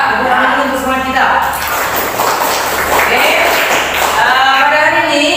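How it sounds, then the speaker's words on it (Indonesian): Classroom students burst into a few seconds of scattered, crowded applause, with a voice speaking before and after it. "Tepuk tangan dulu untuk semua kita."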